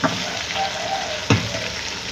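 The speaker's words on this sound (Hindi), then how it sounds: "इसी में हमें लाल मिर्च डाल लेते हैं, इसको भी भून लेते हैं।" Red chili fries in oil for chicken karahi, a close, steady sizzle with a sharp stir or scrape about midway through.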